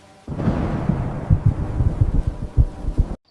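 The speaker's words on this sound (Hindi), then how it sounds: "उसका दिल तेज धड़कने लगा।" A fast heartbeat sound effect thumps in quick, steady low pulses under a soft droning hum, loud and close, with no one talking.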